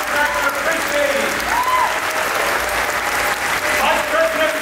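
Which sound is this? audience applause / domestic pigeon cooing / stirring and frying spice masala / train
audience applause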